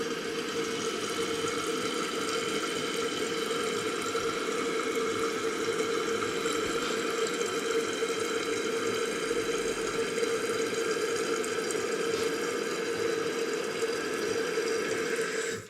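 A toilet tank refills with water after its handle lever is replaced, a continuous hissing, rushing flow that stays steady and fairly close throughout.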